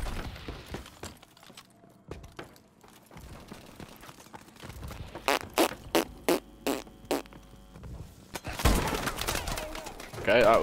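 Rapid bursts of gunfire from a teammate in Call of Duty Advanced Warfare, sharp close shots in a quick rhythmic string midway, then a louder blast near the end, with quieter game noise before.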